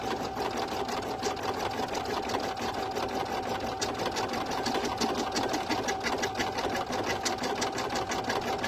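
An embroidery machine stitches an in-the-hoop bow, set at about 350 to 400 stitches per minute, with a steady, rapid mechanical chatter that runs close and even throughout and no talking.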